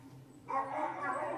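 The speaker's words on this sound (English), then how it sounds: "That dog's not friendly." Dog barking at a door, a sudden burst of several rough barks breaking in partway through and continuing loud and close over a dull room background.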